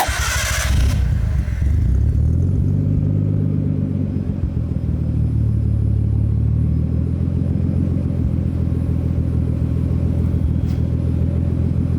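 A Nissan A31 Cefiro turbo car with a big HKS Super Dragger exhaust: a deep, steady exhaust drone rumbles loudly and continuously after a brief higher burst at the start, the engine holding a throaty idle throughout.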